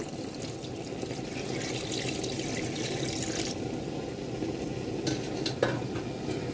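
Tamarind juice is poured into a pot of sambar with cooked dal and vegetables, making a continuous, close watery splash and gush that runs evenly for several seconds with a few light knocks near the end.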